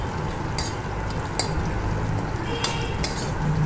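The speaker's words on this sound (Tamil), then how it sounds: "இது நல்லா வதக்கிட்டே இருங்க. அந்த வெங்காயம் வந்துட்டு கொஞ்சம் கலர் மாறும்." Onions sauté in plenty of oil for garlic kuzhambu, a constant close sizzle broken by a few sharp clinks of a spoon against the pan.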